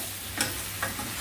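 Ingredients for a Tamil-style dried anchovy fish curry sautéing in a pan, with a steady close sizzle and two brief stirring scrapes.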